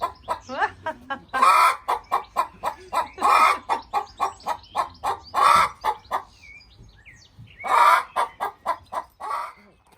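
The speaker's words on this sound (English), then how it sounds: "That was a real chicken." Free-range chickens clucking at a lakeside spot, a close, lively run of short rhythmic clucks and cackles in repeated bursts with brief pauses, with no talk over them.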